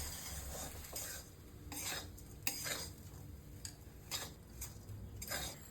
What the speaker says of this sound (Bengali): এবার আমি মিশিয়ে নেব।